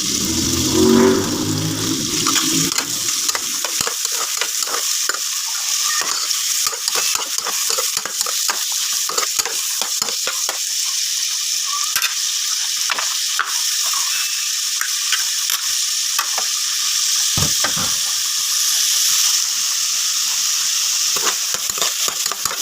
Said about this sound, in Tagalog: brown lang natin yung ating sibuyas. Then, load natin yung kamatis.